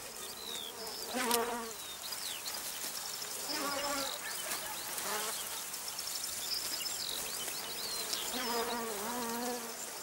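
Young flies buzzing in a meadow near a hedge, several drawn-out buzzing passes rising and fading over a steady outdoor background of insect hum and faint birdsong.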